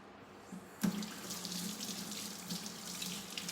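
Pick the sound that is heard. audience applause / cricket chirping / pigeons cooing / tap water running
tap water running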